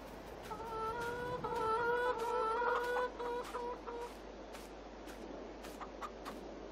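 Chickens cluck and scratch around inside a barn on a farm in Farming Simulator 22, a steady run of clucks with a few sharp calls, fairly close and alone.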